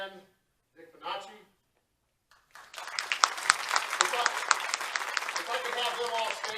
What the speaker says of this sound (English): we hold our applause until the very end